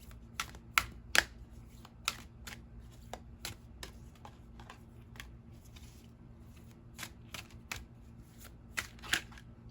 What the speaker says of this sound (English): Then I'll cut the deck if it doesn't come out.